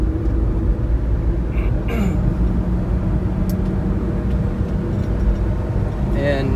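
A Daihatsu Hijet truck's small engine drones steadily in fourth gear while climbing a hill, heard from inside the cab as a constant low hum with a few faint clicks and a voice briefly at the end.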